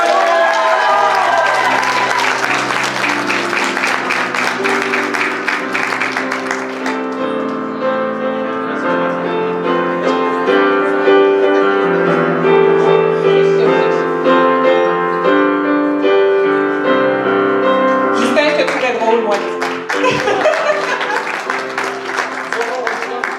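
An audience applauds a graduate at a school gown-and-yearbook ceremony, the clapping and crowd noise mixed under loud music that plays throughout.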